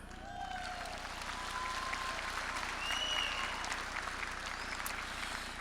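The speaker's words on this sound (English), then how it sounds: "That alone deserves a round of applause." Steady applause from a graduation ceremony audience at Manzano High School, a dense wash of many hands clapping at an even level throughout, with a few faint whistles or cheers rising above it.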